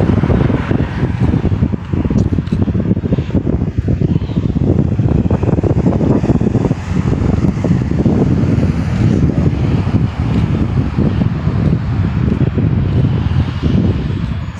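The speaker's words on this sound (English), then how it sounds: "See, the wind at least blowing," Wind blowing outdoors on a clear day, a steady close roar that buffets the microphone without a break for about fifteen seconds.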